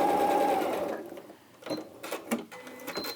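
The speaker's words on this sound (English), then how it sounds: "So I then start by sewing 1/4 inch seam part way down this strip." A sewing machine runs a quarter-inch seam down a fabric strip, a steady loud whir for about a second before slowing and falling away, followed by short bursts of handling and clicks.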